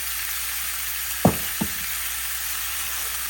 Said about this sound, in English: My burgers are sizzling away. You can hear that.